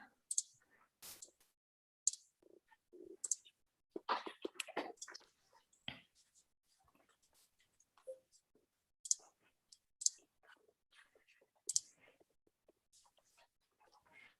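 A computer mouse clicks faintly several times while a slideshow is set up during an online city economic development commission meeting, with soft scattered taps and quiet voices around them.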